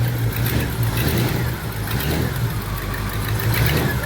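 A 1951 Mercury flathead V8 running after a fuel pump install, loud and close, a steady throaty rumble with gentle rises as it is given a little gas, with no voices over it.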